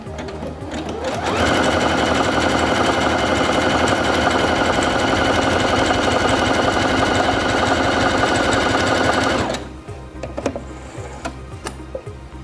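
A Singer Featherweight C240 sewing machine sews a wide zigzag stitch at its maximum 7 mm width, running in a loud, fast, even rattle for about eight seconds before stopping, followed by a few light clicks.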